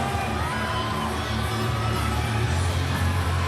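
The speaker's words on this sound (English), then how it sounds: "The crowd have packed in here at Kudos Bank Arena to see a battle" A packed arena crowd at Kudos Bank Arena roars and cheers without a break at a fitness competition event, a dense wall of distant voices at steady volume.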